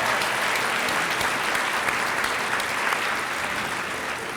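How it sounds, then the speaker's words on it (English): An audience at an adult education and literacy graduation ceremony applauds the graduates with dense, sustained clapping that fills the hall evenly and fades slightly toward the end. "Can we get another round of applause for all of our graduates"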